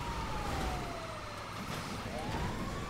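A wailing ambulance siren from the game GTA 5 sweeps down and rises again over steady engine and road noise, moderately loud.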